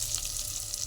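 Dried red chillies tossed into hot oil to temper tomato dal give a brief, loud, close sizzle, a steady hiss with a low hum beneath and no speech.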